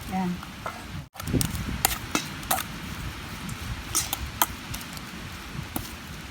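Grandma hand-mixing a Thai countryside eel dish after adding boiled fermented fish sauce (pla ra), with close soft stirring and clicking sounds, a few sharp taps, and no talk.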